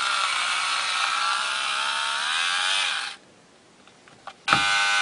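An electric fabric shaver runs on socks, a steady high-pitched motor buzz for about three seconds, then cuts out, a few faint clicks follow, and the buzz starts again abruptly near the end.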